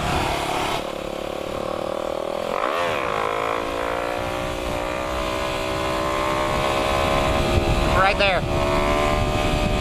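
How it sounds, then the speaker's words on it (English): A supermoto motorcycle engine hums steadily at close range, with two quick rising revs that sweep up and fall back, and a voice talking over it. "kind of what the engine sounds like"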